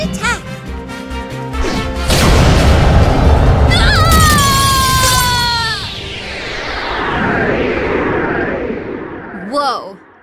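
A monster's direct attack effect in the Yu-Gi-Oh! Duel Links card game, a loud crashing boom with a swelling roar and whooshing streaks that fades over several seconds, with brief voice sounds at the start and end.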